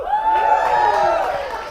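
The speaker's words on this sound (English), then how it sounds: "We did it for the applause breaks." Comedy club crowd at a stand-up set reacting with cheering and whoops, a loud sustained burst of audience noise filling the room for under two seconds.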